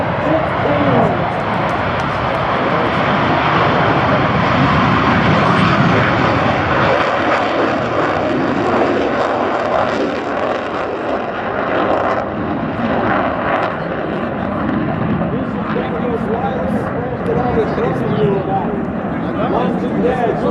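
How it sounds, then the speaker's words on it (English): An F-15 fighter jet flying a demo at an airshow makes a continuous, painfully loud roar with a broad rushing rumble that holds steady for about twenty seconds and drowns out everything else. "This aircraft is painfully loud."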